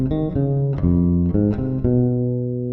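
An electric bass plays a passage with a superimposed rhythm, giving a run of clear, evenly plucked notes with sharp attacks, close and alone.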